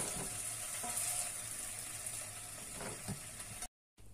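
Beef for a meat pie fries in a pan, a steady broadband sizzle with a few louder spatters, continuous for about three and a half seconds before a brief drop to silence.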